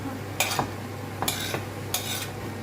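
Sliced green, red and yellow bell peppers go into a hot pan in three separate bursts, each a brief rustling sizzle and scrape over a low steady background hum.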